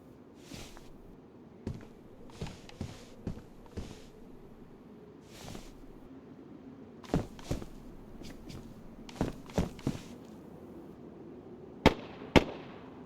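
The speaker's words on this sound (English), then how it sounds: "those few other shots makes me think that maybe they are shooting in my direction" Distant gunshots in the video game DayZ, played in the city of Cherno: scattered sharp cracks come singly and in small clusters, faint to moderate, over a low ambient background with no talking.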